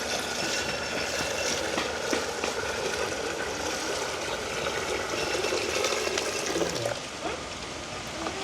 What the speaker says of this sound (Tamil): தேங்காய் பாலை சேர்த்துக்கொள்வோம்.